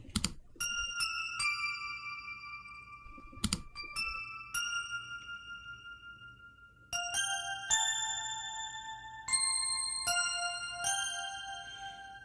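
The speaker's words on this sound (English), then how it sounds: "the next thing I used is a bell" Bright bell tones in an FL Studio gospel beat ring out one after another in a rhythmic melodic pattern, each note sustaining and decaying, with sharp percussive hits at the start.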